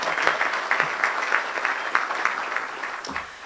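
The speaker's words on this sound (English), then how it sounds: "can we all do a round of applause for Rita" Applause from a breakfast audience in a full room, moderately loud clapping with distinct individual claps audible, gradually thinning toward the end.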